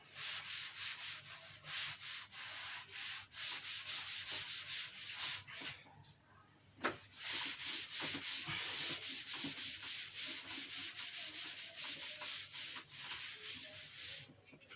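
Writing being rubbed out on a classroom board, a steady scratchy brushing in quick repeated strokes that pauses briefly midway and then continues, fairly quiet with no talking.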